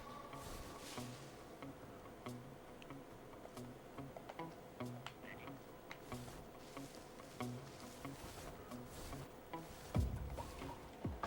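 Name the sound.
bees buzzing near beehive in Metal Gear Solid 3 video game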